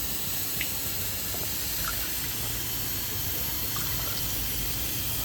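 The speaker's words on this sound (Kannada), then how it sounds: "ಅದಕ್ಕೆ ನೀರು ಒಂದು ಸ್ವಲ್ಪ ಹಾಕ್ಲತ್ತಾರ ಅವರು." Water pours steadily into gravy being cooked for a kheema unde curry, a continuous close hissing splash that lasts the whole moment with no talking.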